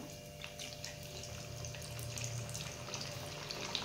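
Thin slices of spinach dal batti frying in hot oil give off a steady, close sizzle that holds at an even level throughout.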